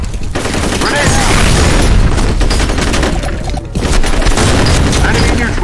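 A grenade blast in the shooter game FEAR, a dense roaring boom that sustains loudly through the whole stretch amid heavy combat noise and gunfire, with a voice briefly calling out over it.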